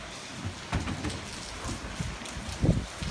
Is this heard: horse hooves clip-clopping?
no